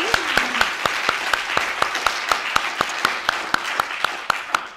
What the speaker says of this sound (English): I'd like to close the day by asking everyone to join me in giving her a round of applause